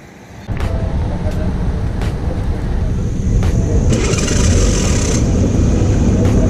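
Motorcycle riding on the road with a helmet- or bike-mounted GoPro, a loud steady engine drone and wind rush starting abruptly and building slightly, with a brighter hiss surging briefly midway.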